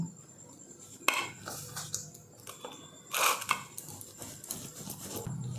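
A knife cutting a kneaded dough for palm-fruit cornetto pitha into small pieces, with sharp scattered clicks and taps against a board and a few louder crunchy strokes, close and fairly quiet.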